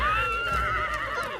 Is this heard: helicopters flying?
no